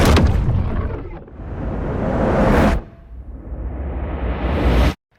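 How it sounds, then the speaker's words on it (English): Two loud cinematic booms, each swelling into a long rumbling whoosh that cuts off sharply, the second ending abruptly near the close. "the big booms, whooshes, sweeps and all that sort of stuff"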